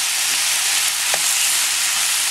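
Ground pork sizzles loudly and steadily in a hot pan for croquette filling, with a brief stir or scrape partway through and no talking.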